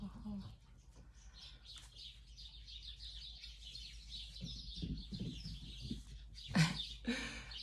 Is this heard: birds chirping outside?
yes